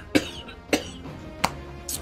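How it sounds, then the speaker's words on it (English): A person coughs three times in spaced, sharp bursts, close and fairly loud, with a faint fourth sound at the end. "stop fucking coughing"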